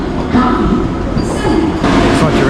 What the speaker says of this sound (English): It's not your average Indian train.